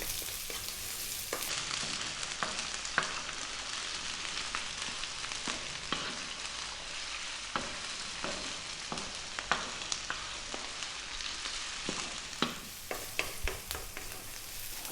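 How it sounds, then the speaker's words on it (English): Onion stir-fries in a hot pan on high heat for Thai chicken fried rice, with a loud, close, steady sizzle broken by repeated scraping and stirring strokes, and no talking. "Then we're going to go with the onion. High heat, 3 minutes, keep it moving."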